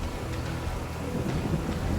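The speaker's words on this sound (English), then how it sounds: "And it's raining." Rain falls in a steady hiss, with low thunder rumbling underneath throughout, in the video game Lost Traveler in the Ashen Realm.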